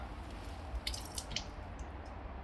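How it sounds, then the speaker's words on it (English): Water sloshes out of a crab pot in a few brief, faint splashes and drips against a steady background hum, with no talking. "And then dump all the water out."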